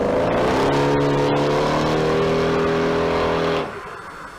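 A supercharged automatic sprint car at the Leyburn Sprints accelerates with a loud, raspy engine howl rising steadily in pitch, then drops away abruptly as it pulls off into the distance.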